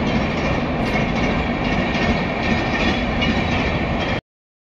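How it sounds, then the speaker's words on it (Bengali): A train rolls past close by, a loud continuous rumble with rhythmic clatter from the wheels that carries unbroken until it cuts off abruptly near the end. "এই তো মাত্রই ট্রেনটা গেল"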